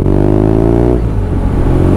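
A 120-horsepower motorcycle rides slowly on a wet road through an industrial area, its engine droning loud and steady with harmonic hum, shifting tone partway as the revs change.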